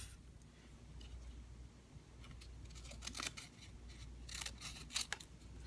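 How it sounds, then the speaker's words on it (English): Scissors snipping through paper labels at a craft table, a few short crisp cuts standing out against a quiet room, close and fairly faint, no talking. "I'll take my labels and I'll cut them in half."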